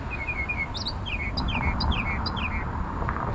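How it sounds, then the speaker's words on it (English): A single bird at an evening harbor in Punta Gorda, Florida, gives a run of quick, bright descending chirps in short repeated bursts, fairly close and clear above a low steady outdoor background. "It's the same bird, folks."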